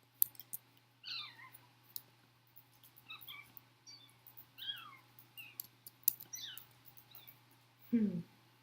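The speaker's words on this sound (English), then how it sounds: "The kittens are at it again." Kittens play indoors, giving a scatter of soft, short mewing chirps and light clicks and scuffles at close range over a faint steady hum, with a louder thump near the end.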